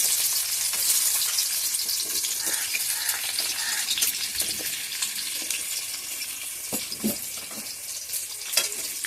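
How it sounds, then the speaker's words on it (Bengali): Diced potato cubes frying in hot oil for a Bengali muri ghonto, a steady dense sizzle with scattered crackles and pops, close and fairly loud, no voices. "এই তেলের মধ্যে এবার আলুগুলা ভেজে নেব।"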